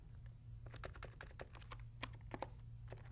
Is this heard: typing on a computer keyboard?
yes